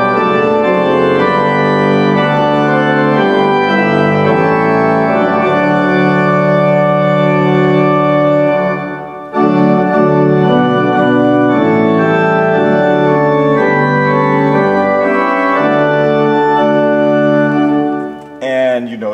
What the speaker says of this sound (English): Anyway, so let's say we're finishing the first verse of Holy, Holy, Holy, which might sound like this.